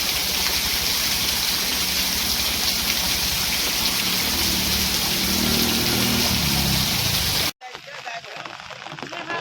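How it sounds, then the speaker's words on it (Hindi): Heavy downpour in Dhari village, Amreli, a dense, steady roar of rain pounding surfaces, loud and unbroken until it cuts off abruptly near the end. "अमरेली के धारी समेत आसपास के गांव में भी मौसम विभाग के अनुमान के तहत धुआंधार बारिश दर्ज की गई"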